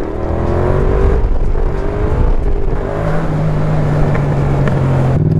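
A Yamaha MT-07 motorcycle engine revs hard and steadily through gears during wheelie practice, a loud, continuous close-up roar with rising pitch sweeps and no talk.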